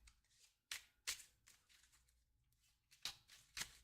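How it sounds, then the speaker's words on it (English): A deck of Arkham Horror board game cards shuffled by hand, heard as several quick riffling bursts separated by short pauses, close and fairly quiet, with no talking. "and now shuffle everything"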